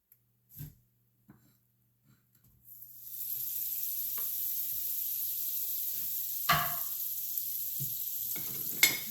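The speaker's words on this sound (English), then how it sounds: "I'm just going to put a little bit of butter in my pan" About a tablespoon of butter hits a hot frying pan and breaks into a steady, faint hiss that holds for several seconds, with a few light clicks and utensil knocks and no voices.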